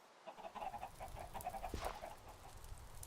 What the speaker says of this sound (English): First of all, let's just check on our chickens.